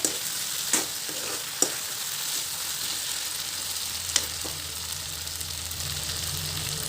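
Chicken pieces fry in a pan under a steady sizzle, with a few distinct spatula knocks and scrapes from stirring and a low hum building toward the end.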